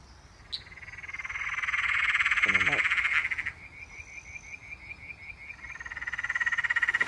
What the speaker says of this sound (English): this is the Peron's tree frog